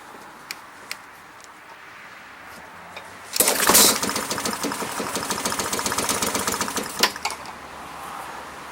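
Honda lawn mower that sat unused for years starts after a few faint clicks, then its small engine runs loud and rough with a rapid chattering beat, close by, before dropping off near the end.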